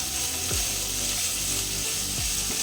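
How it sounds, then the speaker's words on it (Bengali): Potatoes with a coarsely ground spice paste fry over low heat in a pan, giving a steady, close sizzle with a few brief scraping stirs. "আলুর সাথে 2 মিনিট কম আঁচে ভেজে নেব।"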